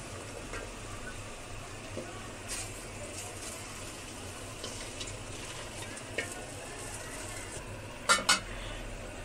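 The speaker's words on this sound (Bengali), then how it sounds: "মাছ তুলে নেওয়ার পরে এর ভিতরে আমরা কেটে রাখা পুঁই শাকগুলোকে দিয়ে দিচ্ছি" Chopped malabar spinach goes into a hot pan of oil just after hilsa fish has been fried, giving a steady close sizzle with soft stirring, a few scattered clinks, and two sharp utensil knocks near the end.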